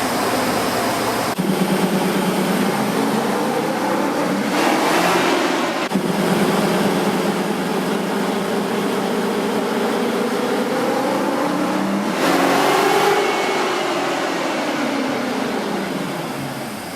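A Jeep Gladiator engine roars steadily on a dyno, loud and close throughout, with its pitch climbing through two surging revving pushes before easing off at the end.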